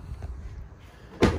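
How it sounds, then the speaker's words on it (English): A rear door of a 2018 Ford Transit Custom Limited 2.0 TDCi L1 SWB van opens with a soft latch click and then a single sharp clunk near the end, heard close up. "Opening up your rear doors,"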